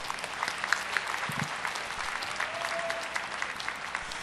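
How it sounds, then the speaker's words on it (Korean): A large audience at the POSTECH 2009 degree ceremony applauds the bachelor's graduates with steady, sustained clapping that fills a big hall at an even level throughout. "오늘 학사학위를 취득한 모든 학생에게 큰 박수로 축하해 주시기 바랍니다."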